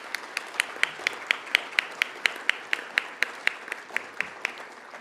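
Audience applause for award winners at an Education Week awards ceremony, a steady patter of many hands with sharp individual claps standing out, sustained and moderately loud throughout.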